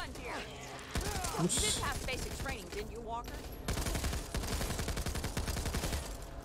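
Rapid automatic gunfire from a weapon in the video game Back 4 Blood rattles in dense, sustained bursts, loud and close, with talk mixed over the shooting.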